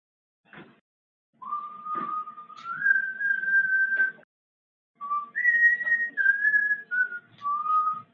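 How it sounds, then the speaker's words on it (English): A person whistles a short tune in two phrases split by a brief pause, with clear, sliding notes that sound close and alone. "whistling is not really gonna work in the stream"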